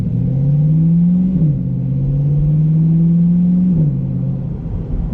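C8 Corvette with a Borla ATAK exhaust and the valves fully open, cruising in normal driving, heard from inside as a loud, deep, steady engine drone that rises, drops at a gear change, and rises again.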